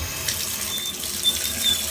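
Hot water runs steadily from a faucet into a sink, a continuous close-up hiss and splash of flowing water with no talking.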